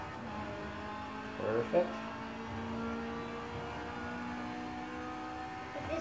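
A racing car engine holds a steady drone with the throttle kept open, a continuous layered hum running throughout, with a voice speaking briefly over it.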